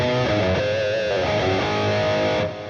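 An electric guitar played through a Kemper lead profile of a Paul Reed Smith Archon amp rings out with a sustained, distorted lead melody of held, bending notes, loud and up front before the sound cuts off near the end.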